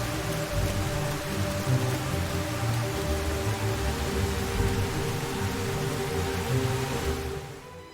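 Heavy rain in a film scene from Parasite, a dense, steady downpour with a low rumbling undertone, loud and continuous, easing slightly just before the end.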